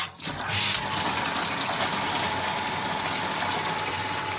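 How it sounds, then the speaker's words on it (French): A Hydrofor pump unit runs steadily just after re-priming while it fills a bucket in a cellar, giving a continuous close hum and rushing water with a brief louder burst near the start. "Ce qui tourne à l'heure actuelle, c'est le groupe Hydrofor qui vient de se ramorcer."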